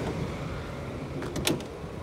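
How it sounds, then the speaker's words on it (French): Sliding rear side door of a Citroen Berlingo XL Shine diesel van opened: a brief mechanical clunk and rolling slide near the middle of the clip, close by, over a steady background hum with no talking. "On va ouvrir la porte ici."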